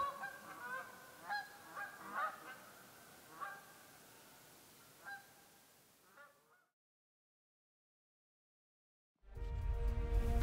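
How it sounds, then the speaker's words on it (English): A gaggle of Canada geese honk as they fly over a forest in the Adirondack Mountains, several distant calls in irregular bursts that fade out, then silence and a sudden loud burst of other sound. "deep sleep is abruptly ended by the calls of a gaggle of Canada geese passing over the forest"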